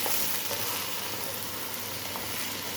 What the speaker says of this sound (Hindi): प्याज फ्राई होने के बाद अब इसमें शामिल करेंगे 1 किलो बोनलेस बीफ का गोश्त और इसे भी थोड़ा सा फ्राई कर लेंगे